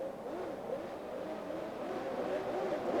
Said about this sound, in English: Engine notes rising.